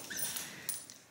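A dog lets out two brief, high-pitched whimpers in a home setting, faint and close, with quiet background noise and no talking.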